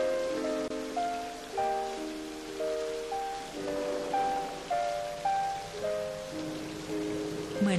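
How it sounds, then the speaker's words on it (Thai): Heavy rain pours down in a continuous, dense patter, heard under soft melodic music notes that rise and fall throughout. "ท้องฟ้าจึงมืดครึ้มและฝนเทลงมาอย่างไม่ขาดสาย"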